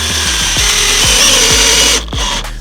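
A power drill drives a screw during a renovation job, its motor whirring loudly and close with a steady pitch and repeated rhythmic pulses, cutting briefly near the end before spinning again.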